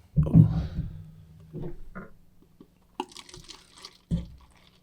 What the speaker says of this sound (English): That's all you're pouring in there?